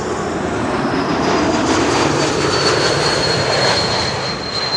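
Fixed-wing airliner arriving on runway 06 at Amsterdam Schiphol, a steady loud engine roar with broadband rumble and a faint high whine throughout, no talk.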